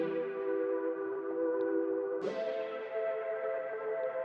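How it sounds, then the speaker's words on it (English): Synthesized chords in an FL Studio production play alone: one sustained chord, then a change to a second held chord about halfway, smooth and moderately quiet with a soft echo tail. "So the chords by themselves sound something like this."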